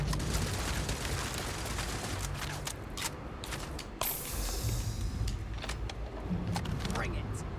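Turret gunfire in a space shooter video game crackles in rapid bursts and scattered sharp shots, running under a player's talking.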